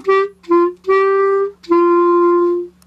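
Opening two bars of a song's hook played as a simple melody of five clear sustained notes, the last held longest, alone with no talking.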